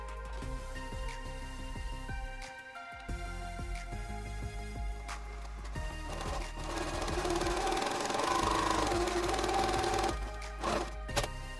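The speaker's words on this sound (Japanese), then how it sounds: "ここにミシンをかけます。" A sewing machine runs in a continuous rapid mechanical rattle while stitching apron fabric at a pocket opening, close and steady with brief pauses and speed changes.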